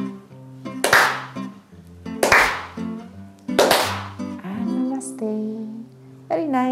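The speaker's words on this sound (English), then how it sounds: "we're going to only clap now, clap, 4 times, clap" Hands clap in a chair dance workout for seniors. Three sharp, loud claps ring out at an even pace over background music, with a softer fourth near the end.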